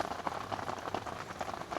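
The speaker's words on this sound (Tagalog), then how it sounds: "Kaso pumapasok yung ulan." Steady rain patters on a nearby surface of a rooftop camping shelter, a dense crackling hiss of drops with no voices.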